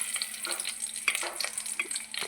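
Garlic and onion sizzle and crackle close up in hot oil with mustard seeds, cumin and curry leaves for red amaranth palya, with quick stirring scrapes over a steady hiss and no talking.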